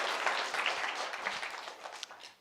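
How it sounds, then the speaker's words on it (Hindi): An audience at a Buddhist community gathering in Pandhurna, Madhya Pradesh, applauds a correct answer, with soft, dense clapping at a distance that tapers off near the end. "जोरदार तालियां इनके लिए।"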